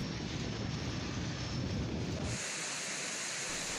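Heavy rain pours over the town of Sampit during the haze season, a dense, loud hiss with deep rumbling thunder that fades away partway through.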